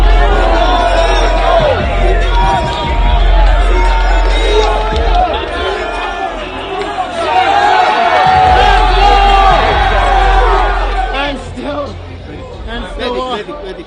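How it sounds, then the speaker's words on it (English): A large UFC 286 arena crowd roars and cheers, with whoops and a dense babble of chatter rising and falling in loud waves, while nearby voices talk over the din. "Listen to the crowd."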